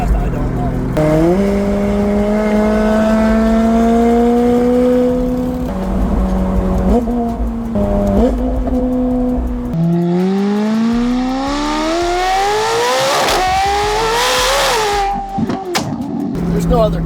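A 1000 HP McLaren 750S accelerates hard with its engine revving through rising pitch sweeps, a gear change breaking the climb before another loud surge, tires hissing near the end; people talk over the roar.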